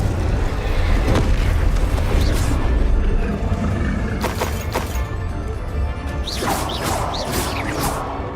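Booming blasts from the Confringo fire spell in Hogwarts Legacy, several heavy explosive hits and crashes with whooshes, loud and dense throughout with no clear talk.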